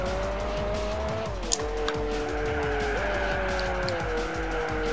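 A race car in Gran Turismo 4 drifts through a corner, its engine droning steadily with shifting pitch while the tires squeal continuously throughout, loud and close.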